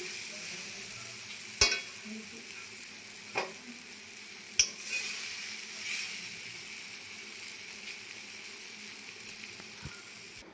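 Papaya pieces frying in a pan for papaya nadu are stirred and lifted out, giving a faint, steady sizzle with a few sharp spatula scrapes against the pan and no talking.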